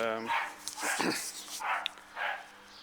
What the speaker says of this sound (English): Apologies for the dogs barking in the background.